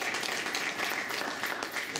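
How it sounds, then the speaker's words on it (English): Audience applauding fathers and father figures at a community event at a school, a brief steady wash of clapping from a crowd, moderately quiet and continuous. "we just want to again applaud and acknowledge the fathers and father figures"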